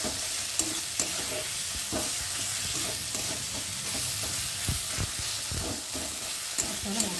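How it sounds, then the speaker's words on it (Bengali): Spice masala with tomato frying in oil in a pan while being stirred, a steady close sizzle broken by repeated scraping and stirring strokes, with no talk. "মশলাটাকে ভালো করে ভেজে নেব, যতক্ষণ অবধি মশলার মধ্যে ভাজা একটা গন্ধ দেবো"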